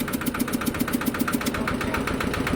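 A Kubota diesel engine on a straw baler runs steadily close by, its rapid rhythmic chugging even and continuous with a rattling, vibrating edge.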